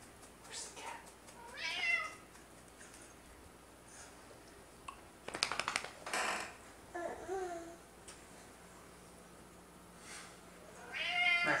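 A pet cat meows several times at a home party, short rising cries spread across the moment, while a person babbles and coos nearby and another voice imitates meowing.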